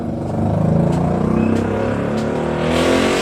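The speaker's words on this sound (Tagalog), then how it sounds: "pasensya na po sa sobrang ingay ng ating mga sasakyan" Loud car engines rev outside in a continuous roar with rising and falling pitch, as if several vehicles are being revved at once, with no voices over them.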